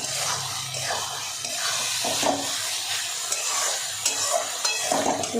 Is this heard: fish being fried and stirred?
yes